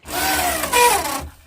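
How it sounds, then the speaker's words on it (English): The convertible top motor on a 1971 Mercury Cougar whirs for just over a second, a close, steady electric whine that rises slightly in pitch midway before cutting off. "Let's see the motor working."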